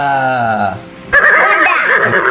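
A horse's neigh rises and falls loudly and close, followed by a brighter, choppy whinny that continues to the end, in an educational animal-name sequence for children.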